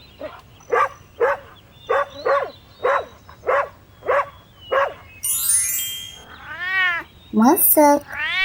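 A domestic cat meows repeatedly in short, evenly spaced calls, then gives a few longer, drawn-out wails at the end, close and clear with no talk.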